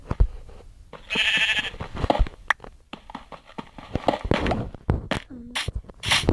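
Several sheep bleat in short, wavering calls amid clicking and thumping sounds in a video game, fairly close, with no talking.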